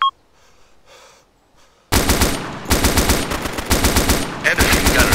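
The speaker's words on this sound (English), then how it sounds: "And a machine gunner. Way in front of us." Sustained rapid machine gun bursts in the Arma 2 combat game, loud and close, opening after a short quiet gap and continuing in long rattling strings with brief breaks.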